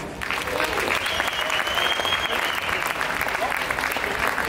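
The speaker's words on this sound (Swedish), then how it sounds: "en stor applåd igen för alla vinnarna" An audience at a Swedish bodybuilding and fitness championship claps loudly and continuously for the winners, a dense, even roar of applause that fills the hall throughout.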